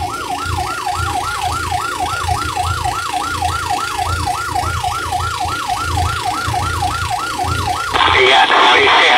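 An ambulance siren wails in a fast, regular up-and-down sweep, loud and close over low engine rumble, then cuts off near the end as a burst of broadband noise takes over.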